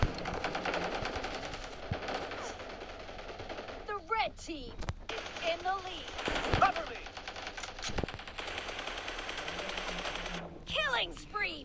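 Bursts of automatic gunfire from a PUBG match rattle in quick strings of shots between quieter stretches, some close and sharp, with a player's voice talking and reacting over the game.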